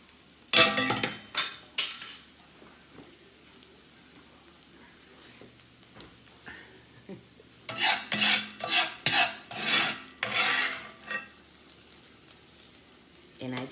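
Cooked peppers and onions are scooped out of a hot pan with a spatula, bringing a burst of sizzling and metal scraping, then a quiet pause, then a second run of scrapes and clinks against the pan.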